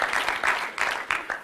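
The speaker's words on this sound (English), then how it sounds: "give the Lord a hand clap of praise if you would" Church congregation clapping in praise during an evening service, a bursty, uneven round of hand claps filling the room at moderate loudness.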